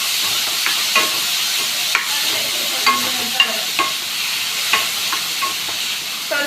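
Tomato curry (thakkali curry) being sautéed and stirred in a pan, a steady frying sizzle with repeated soft scraping strokes of the spoon at an irregular rhythm, close and moderately loud, no talking.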